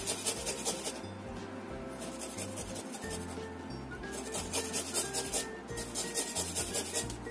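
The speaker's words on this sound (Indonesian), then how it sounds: "ini aku gunakan 2 siung bawang putih. Kita parut supaya hasilnya itu lebih halus." Two garlic cloves are rubbed across a grater in a kitchen, making a rhythmic rasping scrape in quick repeated strokes that pause briefly before resuming, close and moderately loud.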